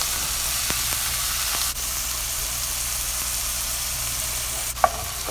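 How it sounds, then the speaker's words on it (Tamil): Chopped tomatoes sauté in a pan with onions for vegetable Maggi noodles, giving a loud, steady sizzle and frying hiss with a few faint stirring clicks and no talking. "தக்காளியும் நல்லா வதக்கிடலாம்"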